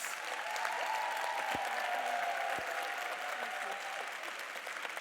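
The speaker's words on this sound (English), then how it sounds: "A big round of applause for our speakers." Dense, steady applause from a conference audience for the speakers at a violence-research forum's opening plenary, a continuous wash of many hands clapping that fills the room for several seconds, with a couple of low thumps partway through.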